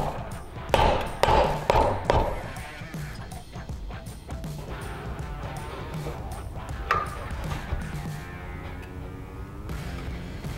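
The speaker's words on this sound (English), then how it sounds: "Tap the piston into the block." Piston tapped into a Predator 212cc engine block through a ring compressor: a quick cluster of sharp metallic taps up close, then softer scattered clatter and handling noises.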